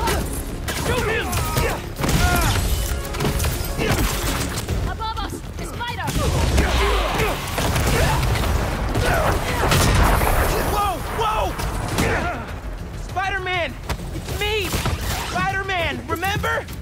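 Gunfire in the Spider-Man 2 video game: bursts of shots and booms crash through a busy action scene, mixed with music and characters' voices talking and shouting over the noise.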